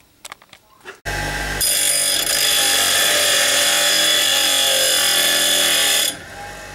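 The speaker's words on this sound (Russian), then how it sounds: "Короче, высверливаем вот таким образом." A power drill whirs loudly and steadily for several seconds after a few brief knocks, drilling into an old clutch basket, then winds down at the end.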